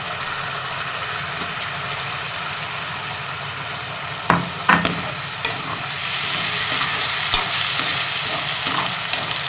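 Ground tomato paste sautéing into an onion masala for egg curry: a loud, steady sizzle with sharp spatula scrapes around the pan, a brief burst of stronger frying partway through, no talking.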